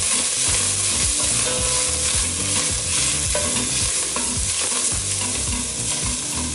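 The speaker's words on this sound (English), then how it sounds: "Now we're going to toss our broccoli in. Bottom of the pan here." Broccoli florets frying in a hot pan with a loud, steady sizzle throughout, while repeated scraping and tossing strokes of a utensil stir them around, close and continuous without any talking.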